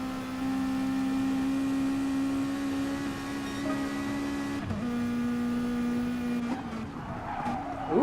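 A race car braking hard at Laguna Seca in Gran Turismo Sport: a steady engine drone with a high, drawn-out tire squeal holding for several seconds, then shifting pitch as the car slows, fairly close and loud, with no talk over it.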